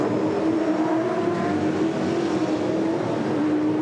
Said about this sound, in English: Now the drag race down Conrod Straight